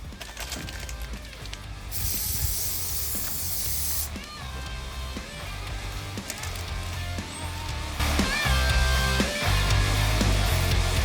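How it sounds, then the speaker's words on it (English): Panel prep degreaser is sprayed onto the lights of an Audi A3 8P in two close, hissing bursts of about two and three seconds, separated by quieter handling noise. "we're just going to give the lights a wipe with some panel prep degreaser"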